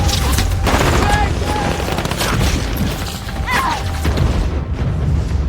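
Loud, continuous barrage of booming blasts and crackling gunfire in a war zone in a film, dense and chaotic, with voices shouting faintly underneath.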